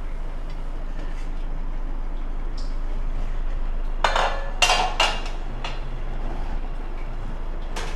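A steamer pot lid is lifted after steaming kozhukkattai dumplings, giving a few sharp metallic clanks and scrapes clustered together at mid-clip, with quiet steam hiss before and after.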